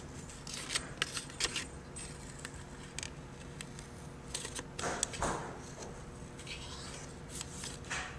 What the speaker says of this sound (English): Just going to cut them apart with my sharp little scissors